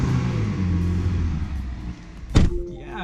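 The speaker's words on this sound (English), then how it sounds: "Damn, if you can hear that engine." A restored flood-damaged car's engine runs with a low steady rumble, then a brief loud mechanical burst and clatter near the end, with no talk.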